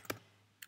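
A few quick keystrokes on a computer keyboard as a search is typed in: two or three faint, crisp clicks with quiet between them.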